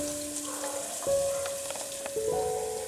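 Balushahi pastries frying in ghee, a soft steady sizzle with faint crackles and a few light clinks close by, no voices.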